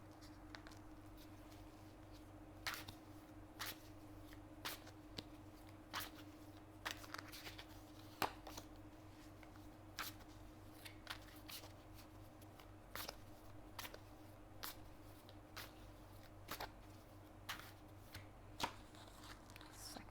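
Playing cards are shuffled and drawn one at a time, giving a steady run of soft, close riffling snaps and flicks at an even rhythm over a low background hum, with no talking.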